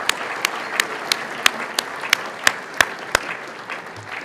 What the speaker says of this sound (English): let's give another round of applause for Dan Proft and the entire Lincoln Day Dinner Committee